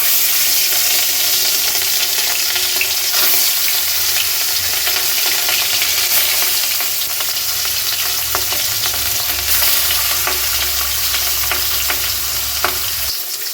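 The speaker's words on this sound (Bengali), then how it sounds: "আর এদিকে তেলও গরম হয়ে গেছে। এবার মাছগুলো আমি একে একে ছেড়ে দেব।" Marinated fish frying in hot oil, a loud, dense, continuous sizzle and crackle close by with occasional pops and a low bubbling underneath.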